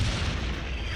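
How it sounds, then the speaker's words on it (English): Shell explosion striking a First World War tank, a dense, rumbling boom with heavy low-end roar that fills the moment without a clear sharp onset, loud and close with no voices. "Then I heard a tremendous explosion and saw one of our tracks go flying through the air."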